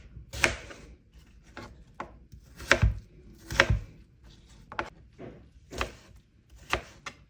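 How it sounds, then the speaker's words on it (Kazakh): A knife chops apples finely on a board in about a dozen sharp, close, irregular knocks with quiet gaps between them, with no talking. "Алмаларды тураймыз."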